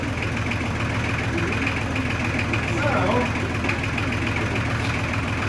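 A tractor engine idles steadily at close range, a low continuous rumble with a faint knock, while someone speaks briefly over it.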